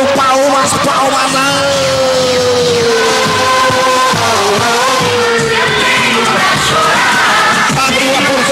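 A Brazilian rodeo crowd cheers and claps, with loud yells and whoops rising over a steady roar while voices shout near the front.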